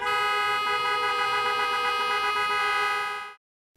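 In a convoy of vehicles driving with flags toward Sofia, car horns blare in one loud, sustained honk lasting about three seconds before cutting off abruptly.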